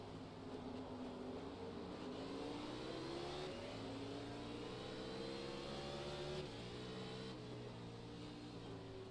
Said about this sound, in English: You could hear when he's hitting the gas and everything.